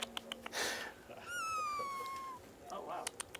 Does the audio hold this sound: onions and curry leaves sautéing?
no